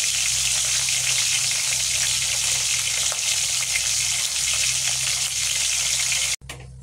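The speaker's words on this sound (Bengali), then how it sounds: "আর দুটো মাছ ছিল, সেই মাছ দুটো দিয়ে দিলাম কড়াই," Chitol fish belly pieces fry in plenty of oil in a wok, a loud continuous sizzle and hiss that holds steady before cutting off abruptly near the end.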